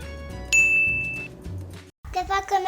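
A bright notification bell dings once, ringing clearly and sustaining for under a second over a soft musical bed, followed by a brief silence and then someone speaking.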